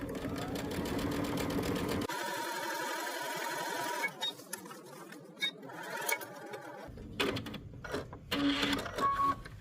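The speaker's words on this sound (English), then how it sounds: "we're going to take it to the machine and we're going to edge stitch it 1/4 of an inch from the edge of the pocket" A home sewing machine edge stitching a fabric pocket a quarter inch from the edge, a close rapid mechanical whirr in bursts with short pauses and clicks between runs, no voices.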